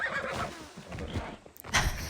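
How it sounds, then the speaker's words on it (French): A horse whinnies briefly in a video game, a short neigh over soft background game ambience, with hooves faintly clip-clopping. "C'est bien mon cheval, tu suis."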